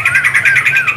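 A young wild-caught white-rumped shama (murai batu) kept for singing contests gives a short, loud, close run of warbling whistled notes, rising and falling in quick succession.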